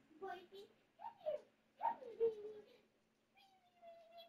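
A pet dog yips, whimpers and gives short barks in several close bursts, ending in a long thin whine, with people talking in between.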